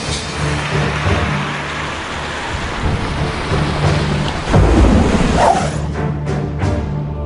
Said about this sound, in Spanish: Durante 24 horas la tormenta embistió la costa china.